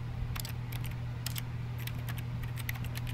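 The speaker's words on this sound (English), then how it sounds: "sounds like I'm typing" Typing in the video game The Stanley Parable: faint, irregular clusters of light key clicks over a steady low hum, coming in scattered bursts.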